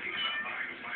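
A kitten gives one short, fairly faint meow, close by and alone.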